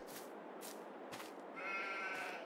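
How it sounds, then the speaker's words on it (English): Sheep in a Farming Simulator 22 livestock facility on the Hills of Tuscany map bleat in a drawn-out, moderately loud call over a steady hiss of game ambience. "65 sheep in this facility."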